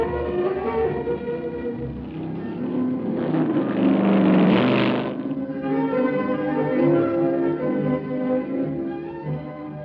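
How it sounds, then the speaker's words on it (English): A 1963 Ford climbs the mountain road at the 1965 Pikes Peak Hill Climb, its engine roaring and revving under load and swelling as it passes, with an older, lo-fi recording tone. "Jeff Tosser from Boulder, Colorado makes his climb in a 1963 Ford"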